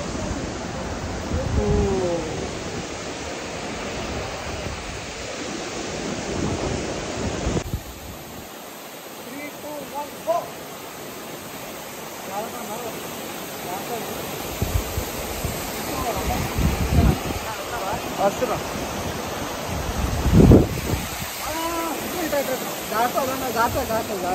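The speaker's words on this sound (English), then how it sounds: "We reached this waterfall." A hidden waterfall near a village roars as a steady, broad rush of falling water that stays close and loud throughout, with people talking over it at times.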